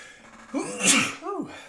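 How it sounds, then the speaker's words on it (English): A single sneeze from a person indoors: a brief intake of breath building to a sharp, close burst, followed by a short trailing exhale. "I gotta sneeze."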